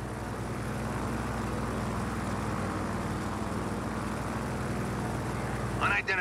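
An airplane flies in Just Cause 4, its engine a steady droning hum throughout, while a person talks over it.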